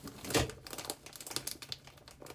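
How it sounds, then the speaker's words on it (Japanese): Scissors cut open a plastic sausage package, giving a sharp crinkle up front followed by rapid rustling and snipping of the wrapper at close range. "もうハサミで切っちゃう。"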